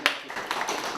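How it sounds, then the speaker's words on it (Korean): A small audience at a local policy discussion forum in Jecheon claps briefly: one sharp clap, then a few scattered claps trailing off within a second. "박수 한번 쳐줘요"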